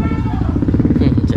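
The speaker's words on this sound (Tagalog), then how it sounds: "Ang ganda ng motor." Motorcycle engine running close by, a steady low buzzing drone that holds throughout the short stretch with no pauses.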